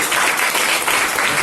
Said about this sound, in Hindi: तो सबसे पहले तो आप लोगों के लिए ताली होनी चाहिए